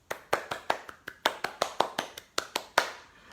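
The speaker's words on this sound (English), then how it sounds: "I think we all deserve a round of applause." A round of applause: about a dozen sharp, evenly spaced hand claps, close and loud, a single person clapping steadily at a brisk pace with no talk.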